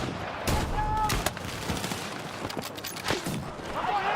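Several sharp rifle shots from a DMR in Battlefield 6 crack out over a busy battlefield din, spaced irregularly across a few seconds alongside distant explosions.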